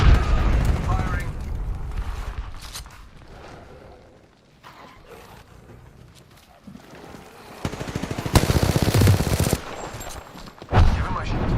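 Video game gunfire in a story-mode firefight: sustained bursts of automatic weapons and heavy booms from nearby, fading to a lull midway before loud volleys return, with voices talking over the shooting.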